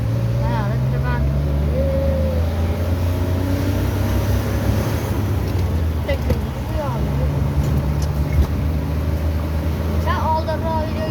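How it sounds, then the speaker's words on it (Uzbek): Road traffic jam with cars packed together, a continuous low engine rumble and drone close by, with occasional horn-like tones, while a person talks over it throughout. "Mana tirbandlik."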